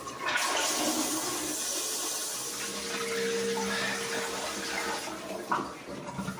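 A HOROW smart toilet flushes with a steady rushing of water that fills the whole clip and swells briefly near the end, close and moderately loud with no talking.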